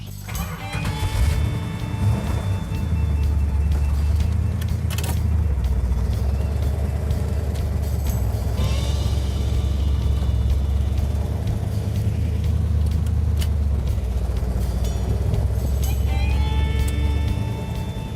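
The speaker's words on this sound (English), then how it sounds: "We're gonna go ahead and get the car running and put it in gear" A 1970 Plymouth Cuda with its numbers-matching 383 engine runs steadily and loudly throughout, a deep continuous rumble with a brief rise in intensity as it is put in gear, no speech over it.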